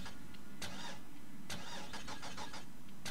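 A Camaro in the racing game Burnout Paradise cranks and fires up, its engine catching with sharp bursts and settling into a throaty idle that stays close and prominent throughout.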